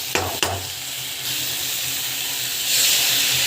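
Ingredients sautéing in a pan with a steady broad sizzle, two sharp clatters of stirring near the start, and the hiss swelling louder toward the end.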